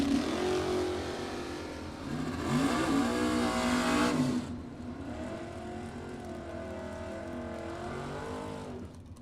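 A 1975 Camaro with a 383 small block on a drag strip, its engine revving hard with rising and falling pitch, then cutting off and receding into a fainter, distant engine drone.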